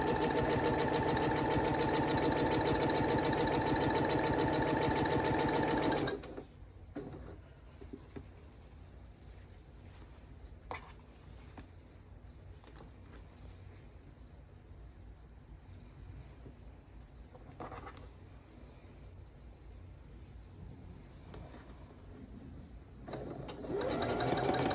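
A sewing machine whirs loudly and steadily at close range for about six seconds while piecing a quilt, then stops. A quieter stretch of faint handling noise follows, and the machine hum starts again near the end.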